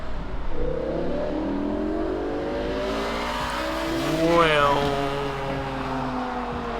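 BMW M6 with a V10 engine revving hard as it accelerates down a street, the pitch climbing steadily then peaking loudly near the end before dropping, with a brief spoken word over it.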